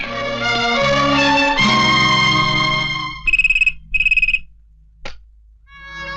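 A telephone rings in an office with an incoming call from a police DCP, two short repeated bursts of trilling electronic ring sounding clearly after a swell of loud dramatic music, followed by a brief click.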